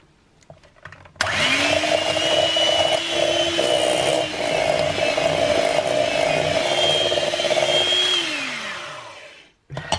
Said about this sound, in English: And now we'll whisk it until it's creamy.